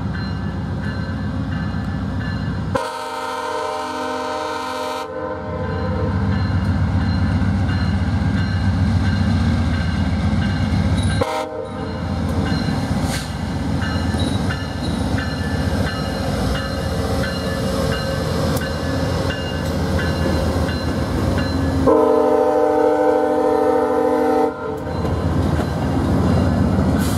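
A four-car VIA Rail passenger train passes close by, its loud rumble and rhythmic wheel clatter filling nearly half a minute, with brief breaks where carriage gaps go by and steady roaring throughout.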